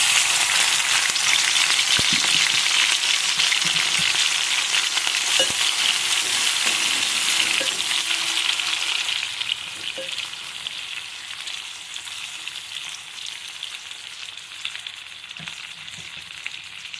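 Dried shrimp fry in curry oil in a kadai, a steady, close hiss of sizzling that runs unbroken throughout and eases slightly in level partway through.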